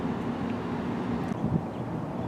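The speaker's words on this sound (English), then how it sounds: "it's windy out there and it'll drown out the microphone" Steady low rumbling buffets throughout, the blustery roar of wind hitting a microphone outdoors beside a building, with no speech.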